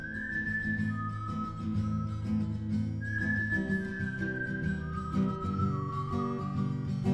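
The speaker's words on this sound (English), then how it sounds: "I just strummed some chords in a very Western feel, I did a bit of a whistle, and then added reverb to both" Western-style strummed guitar chords with a drawn-out whistled melody on top, both drenched in reverb, steady and close throughout.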